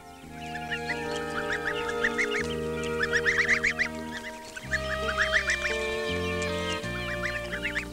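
Ducklings quack constantly while eating finely chopped nettle, a busy overlapping chorus of small bird calls with a steady low hum underneath.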